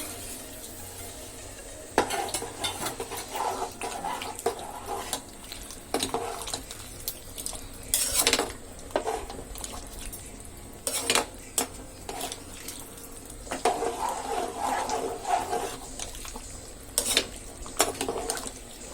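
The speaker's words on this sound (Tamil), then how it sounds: "இப்போ 2 கிளாஸ் தண்ணி ஊத்தி நல்லா கலந்துக்கலாம்." Moong bean kulambu with two glasses of water is stirred in a pot on the stove, with steady watery swishing and scraping that comes in repeated bursts, close and fairly loud with no talking.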